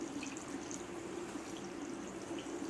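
Running tap water streams steadily as hands are rinsed clean under it after handwashing, a soft, continuous splashing flow at moderate distance with slight rippling variation.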